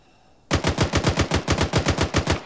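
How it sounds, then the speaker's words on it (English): Sustained automatic gunfire in the military shooter ArmA 3, a rapid burst of evenly spaced loud shots starting abruptly after a quiet moment and continuing to the end. "is that you guys shooting, suppressing me?"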